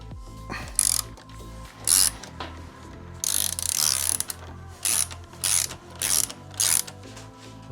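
Ratchet wrench cranking during a Bonamici rearset install on a Ducati Panigale V2, with repeated bursts of rapid metallic clicking in an uneven rhythm, loud and close, with no talking.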